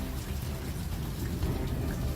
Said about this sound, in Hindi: बाहर बारिश और तेज हो चुकी थी।